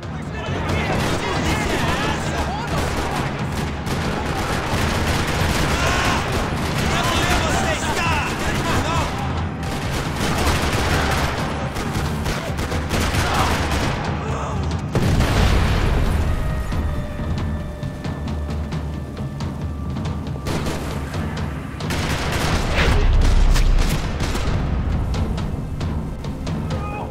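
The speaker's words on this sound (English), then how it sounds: "Another parking lot rattling with gunfire." In Max Payne 3, a parking lot rattles with sustained gunfire: dense volleys of shots and bursts, crashes and booms piling up loudly over half a minute, with a voice speaking in places.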